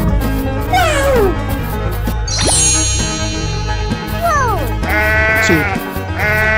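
Sheep bleat loudly and close in a busy animal-themed escape room challenge, several wavering cries in a row over a dense, noisy background.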